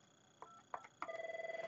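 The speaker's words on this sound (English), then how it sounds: "So if a call were to come in to 251, which I'll dial right now," An Avaya IP Office 9641G touchscreen desk phone dials an extension: several short, evenly spaced keypad tones, then a steady pulsing ring-back tone. No one speaks.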